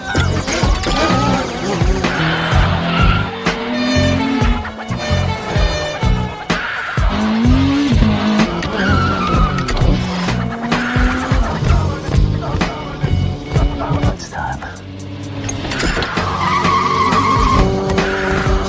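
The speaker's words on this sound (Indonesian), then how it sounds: "Frank langsung menancapkan gas mobilnya untuk menghindari kejaran polisi" Frank's car accelerates hard to escape a police chase, its tires squealing and skidding through sustained, loud engine roar. Film soundtrack and chase effects fill the whole stretch without pause.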